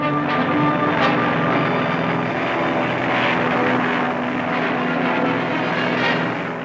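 A military helicopter flies over a Vietnam War jungle base in a Korean newsreel, a loud steady droning engine roar with a faint rhythmic rotor chop throughout.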